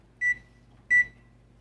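Two short, bright electronic beeps from an oven timer being set while baking homemade pumpkin pie, evenly spaced about half a second apart, clear and close over a quiet kitchen hum.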